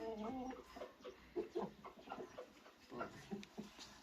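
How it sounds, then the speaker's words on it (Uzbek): Young roosters cluck and attempt short crows in a farmyard, several bursts in quick succession at close range, with occasional voices in the background. "Normalniy o'ziga stoyish xo'roz bolalari mana."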